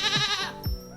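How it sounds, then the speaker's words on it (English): Two bleats from a service goat, one short and one longer and wavering, loud and close with a brief pause between them and no talk. "Service goats like Bailey here have been clinically proven to lower the stress that triggers blonde rage"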